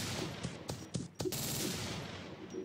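Rapid bursts of video game gunfire from a gun in a Siren Head monster-hunting game, several sharp shots spaced irregularly over a steady noisy background, then a lull as the gun runs out of ammo.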